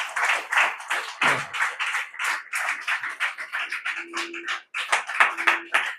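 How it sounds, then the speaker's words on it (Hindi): A church congregation claps loudly together at a New Year service, with dense, fast, rhythmic hand claps filling the space throughout and a few brief voices under them. "जोरदार ताली बजा दो यीशु के लिए।"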